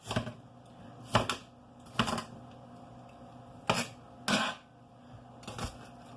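A knife dices vegetables on a cutting board while pinto beans are prepared for a pressure cooker, giving about eight sharp, separate chopping knocks at an uneven pace, close and clear with no talking.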